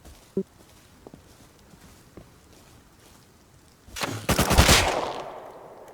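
Gunfire in the survival video game Rust: a few faint isolated shots, then a loud rapid burst of automatic fire near the end.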